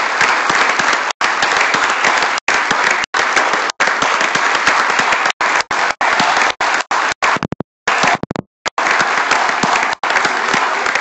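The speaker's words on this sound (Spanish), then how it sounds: "Vamos a darle un fuerte aplauso de nuevo a nuestro distinguido jabonés Cabrera Felipe, nuestro homenajeado" Loud, sustained applause from an audience at a nephrology congress tribute, dense clapping broken by several brief gaps and a couple of short pauses near the end.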